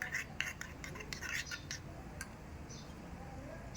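Split mustard seeds and turmeric are stirred into hot oil in a pan for cucumber pickle, with faint metallic clicks and scrapes of a spoon against the pan over a quiet background.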